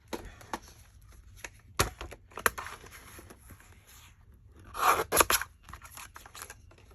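Scissors cutting gift bag pocket material, a series of irregular snips and crisp crunching cuts, close and fairly quiet with pauses between them.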